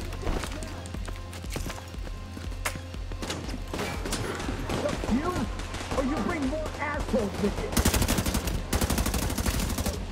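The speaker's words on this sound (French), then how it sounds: "Ça tire en tout cas dans le coin." Scattered gunshots and automatic bursts in The Division 2, moderately distant under game ambience and some speech, growing denser with rapid fire near the end.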